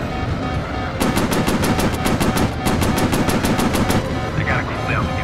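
Aircraft machine gun firing in the VR game Warplanes, battles over the Pacific: a loud rapid burst of evenly spaced shots lasting about three seconds over a steady engine drone, then stopping.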